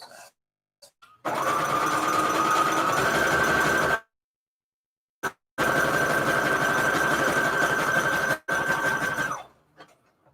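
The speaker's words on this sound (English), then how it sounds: "I'm going to go in with the zigzag still." A sewing machine zigzag stitching through paper scraps runs loud and steady in two bursts of a few seconds each, separated by brief pauses, with a few faint clicks at the start and end.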